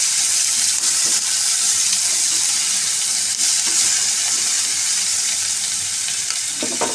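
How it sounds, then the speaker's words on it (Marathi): Green chillies sauté in a hot pan, giving a steady, loud, close sizzle that holds without break throughout, with no talking. "मिरची थोडीशी परतून घेऊया."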